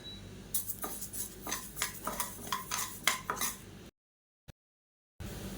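Green gram is stirred and roasted in a little oil in a pan, with a spatula scraping and clinking against the metal in quick bursts before a short silence.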